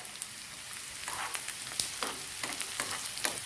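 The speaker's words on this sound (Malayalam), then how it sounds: "രണ്ടിലും വെള്ളമയം ഉള്ളതുകൊണ്ട് പതുക്കെ ഒന്ന് വറുത്ത് കിട്ടിയാൽ മതി" Shallots and ginger fry gently in hot oil for a chutney, giving a steady soft sizzle with scattered crackles and pops, close and moderately quiet, with no talking.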